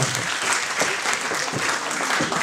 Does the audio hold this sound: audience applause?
yes